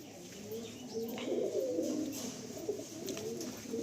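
Black Tikki golden-eyed pigeons, a male and female pair, coo steadily at close range in a low, rolling murmur, with faint chirps and quiet background voices.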